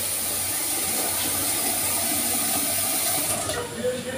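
Water pours steadily into a cooking pot, a continuous close, loud rushing splash that eases slightly near the end.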